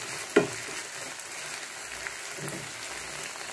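Gobi manchurian fries in a pan with soy sauce and vinegar, a faint, steady sizzle broken by one brief sharp clatter near the start.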